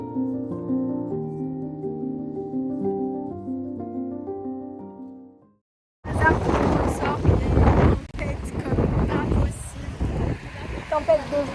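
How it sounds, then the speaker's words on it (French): Strong wind and rainstorm at the seaside on Djerba, Tunisia: after a stretch of steady tonal music and a brief silence, loud roaring gusts batter the microphone with broadband noise for the rest of the clip. "Tempête de vent, de pluie"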